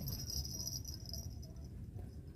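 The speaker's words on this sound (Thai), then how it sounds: "อันนี้ก็จิ้งหรีดนี่" A cricket chirps at night beside a fishing spot, a thin, high, steady trill running continuously over a low background rumble, fairly faint and with no talk.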